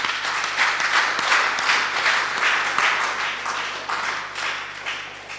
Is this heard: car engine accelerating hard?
no